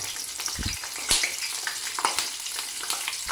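Loud, continuous sizzling and crackling of friggitelli peppers frying in hot oil, with occasional pops and a brief clatter, no voices.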